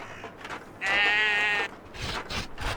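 A sheep in the video game Trine 3 gives one clear, wavering bleat lasting under a second, close and prominent between softer rustling game sounds.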